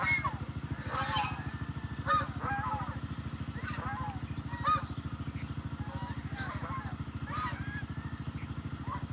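Ducks or geese honk in scattered calls over a steady, rhythmic engine-like throb, the birds moderately near and fairly faint.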